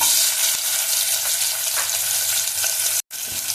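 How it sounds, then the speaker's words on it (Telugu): Onion pieces hitting hot oil in a pressure cooker, a loud, close, continuous sizzle of frying that breaks off briefly near the end and then resumes. "ఆయిల్ వేడెక్కిందండి, ఆనియన్ ముక్కలు వేస్తున్నాను."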